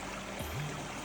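Mountain spring water rushes steadily through a hose feeding a tank, a constant close hiss with a brief tonal warble partway through.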